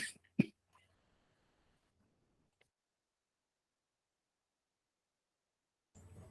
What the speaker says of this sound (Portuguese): Foi até bom que eu tossi só agora, fiquei com medo de tossir.